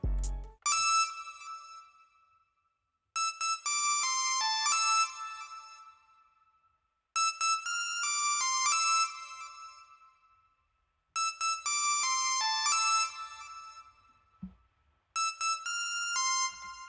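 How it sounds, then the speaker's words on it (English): A bright synth lead plays short melodic phrases in repeated bursts with brief gaps between them, loud and clear with no voices. "I added this melody that you kind of hear throughout the whole beat itself. It's like a lead kind of thing"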